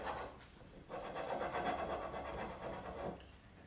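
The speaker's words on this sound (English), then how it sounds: "it's very important that you rub it on there really, really hard so it gets good contact" A transfer is rubbed hard onto a painted glass table top, making close, steady scraping and rasping strokes in a continuous rhythm with a short pause near the start.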